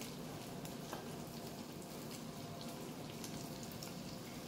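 Breaded beef cutlets fry in hot oil with a steady, dense sizzle and fine crackling throughout, close and fairly quiet, with no voices.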